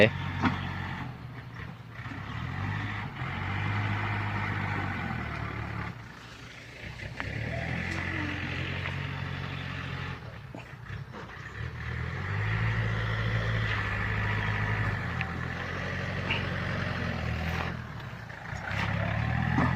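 A dump truck reverses a long way beside a canal to tip soil, its diesel engine droning and shifting close by over about twenty seconds, with mechanical clanks and a tractor working nearby.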